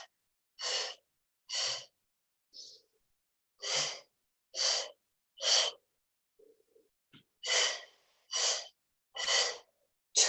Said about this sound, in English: Breathe out. Breath in. Exhale. Inhale, lengthen.